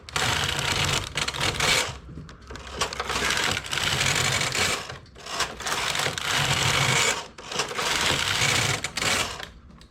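A domestic knitting machine carriage is pushed back and forth across a heavy all-needle stitch, giving three long, loud, rasping clatters separated by brief pauses.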